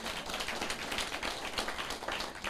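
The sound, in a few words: audience clapping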